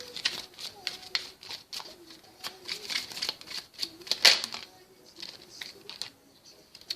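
Tarot cards are shuffled and drawn with quick papery flicks, riffles and soft slaps. The card sounds come in irregular bursts under a voice talking throughout.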